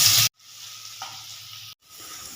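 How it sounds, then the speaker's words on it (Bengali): Onions fry in a little hot oil, giving a soft, steady sizzle. A short loud burst at the start and brief cut-outs break it up, and no one speaks. "সেই পেঁয়াজটা একটু লাল লাল করে ভাজা করে নেব"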